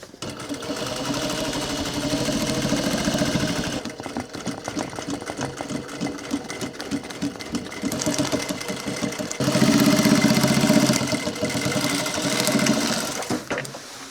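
A sewing machine runs steadily, top-stitching down the length of a workwear jacket, with a continuous mechanical whir that dips briefly and then rises louder near the end, close and alone.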